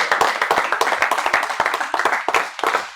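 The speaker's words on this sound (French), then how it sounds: "On peut les applaudir." Close, fairly loud clapping from an awards-ceremony audience at the Grizzly Awards, with distinct individual claps in an uneven rhythm over a few seconds.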